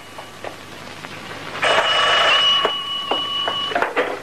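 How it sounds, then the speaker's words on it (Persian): A telephone rings loudly with a sustained electronic trill lasting a couple of seconds, followed by a few faint clicks, with no one talking, in a 1967 Iranian film. "تلفن زنگ میزنه."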